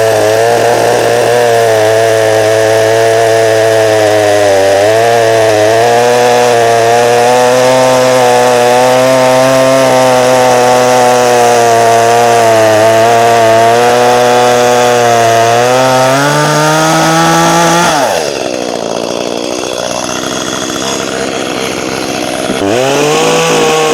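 Echo CS310-ES chainsaw cutting through a hard piece of yucca wood, a loud, steady engine whine under load that holds for most of the cut, then drops sharply as the chain breaks free and the engine revs back.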